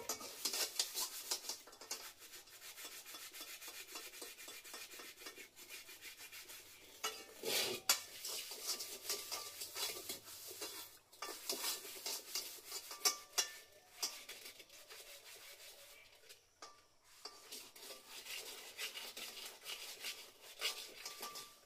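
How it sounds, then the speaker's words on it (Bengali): A new kadai (wok) is washed in a kitchen: metal scraping, clinks and splashy rubbing come in irregular bursts, fairly faint and close, with brief pauses between strokes and no talking. "এইদিকে নতুন কড়াইটাকে ধুইয়ে রাখছি"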